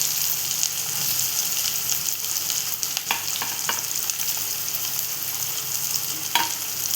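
Chopped onion fries in a pan, making a steady close sizzle with scattered sharp crackles and a few stirring clicks, with no talking over it.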